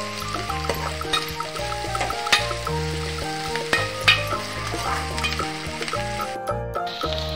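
Onions and green chillies sizzle steadily in a pan, close by, with scraping stirs and clinks over a low tonal hum in the background; no one speaks.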